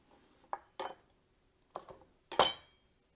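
Garlic cloves being peeled by hand on a kitchen counter, giving four short dry crackling bursts of papery skin that stand apart, close and fairly quiet, with the last one the loudest and longest.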